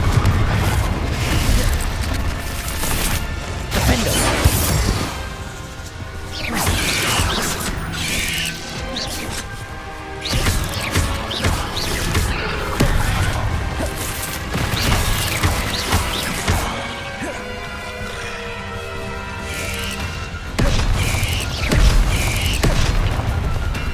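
Confringo and Bombarda spell blasts in the game Hogwarts Legacy come as loud, dense booms and crashes in quick succession with clattering debris, a continuous barrage of combat impacts.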